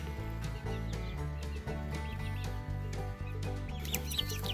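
Baby chicks, including a young Seabright rooster, peep and cheep softly in a coop with an outdoor hum, with scattered small chirps and light scratching and no talking.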